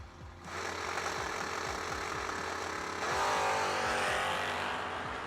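Mustang drag car at a bracket nationals drag strip, its engine roaring loud and steady with a sharp surge of revs partway through, a continuous race-car drone with no talk.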